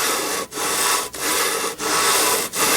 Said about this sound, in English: I got the lapping compound on there. I'll work it around a little bit.